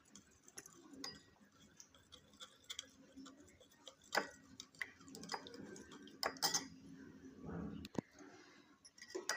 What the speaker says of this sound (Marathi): आता आपण हे चांगलं हलवून घेऊयात।